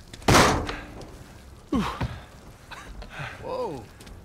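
In Uncharted 4, diving gear with an air tank is tossed down and lands with a heavy metallic thunk, followed by a second lighter knock, while characters exchange a few words and breaths around it.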